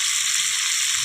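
Chicken joints frying in a pan over a lowered flame, a steady bright hiss and crackle of hot oil, close and continuous with no talking.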